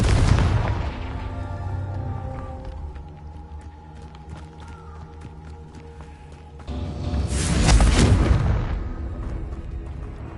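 Confringo fire spell in Hogwarts Legacy, two loud booming blasts, one at the start and another later, with a ringing resonant tail between them.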